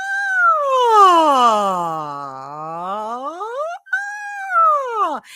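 A single voice glides down from high to low and back up again, imitating a siren. A brief break comes before a second, shorter swoop.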